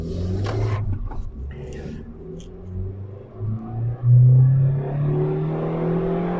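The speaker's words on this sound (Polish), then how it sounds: "Posłuchajcie, jak to fajnie gada, jak on się rozpędza jak nabiera tej prędkości obrotowej" A fifth-generation Suzuki Swift Sport engine revs up as it accelerates, the pitch climbing steadily with a low rumble underneath, fairly close and moderately loud.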